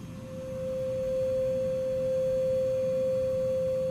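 A pure, steady resonant tone hums continuously, swelling slightly in loudness early on and then holding even over a faint low background rumble.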